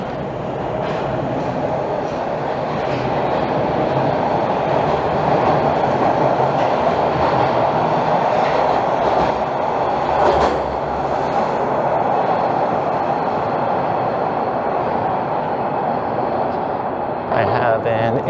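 A subway train departs nearby in Toronto, rumbling steadily with a continuous metallic drone and rattling wheels, holding at a constant loud level throughout.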